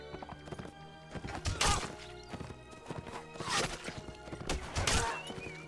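A horse in a Between Empires video game, set in France, neighs loudly several times over hoofbeats and clattering hooves, amid a busy, dense mix of battle noise.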